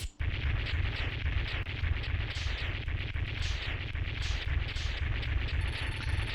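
A computer blows up in the Megaman X2 video game, a dense, continuous roar of explosion noise that fills the whole stretch at steady loudness and never breaks.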